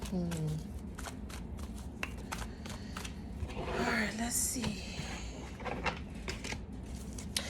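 Tarot cards being shuffled in quick, repeated riffles and flicks, close up, while a person talks softly over the rustle.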